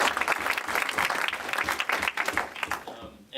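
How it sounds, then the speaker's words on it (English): Audience applause for an M&A panel at a growth company forum, a brisk, fairly close run of clapping with some voices mixed in, tapering off abruptly near the end. "So please give them a round of applause."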